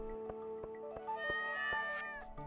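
A cat meowing in the video game Stardew Valley Expanded, a clear close meow over a backdrop of game music with regular plucked beats.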